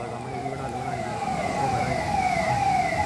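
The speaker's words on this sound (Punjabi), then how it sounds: "ਲਗਾਤਾਰ ਜੋ ਐਂਬੂਲੈਂਸਾਂ ਨੇ, ਜੋ ਫਾਇਰ ਬ੍ਰਿਗੇਡ ਦੀਆਂ ਗੱਡੀਆਂ ਲਗਾਤਾਰ ਸਾਈਟ 'ਤੇ ਪਹੁੰਚ ਰਹੀਆਂ" Sirens from ambulances and fire engines arriving at a chemical factory fire wail steadily, their rising and falling tones carrying over road traffic noise, moderately loud and continuous.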